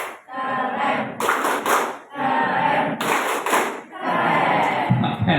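University students at a campus orientation event clap together in loud, rhythmic bursts that come in three waves, with voices mixed into the clapping.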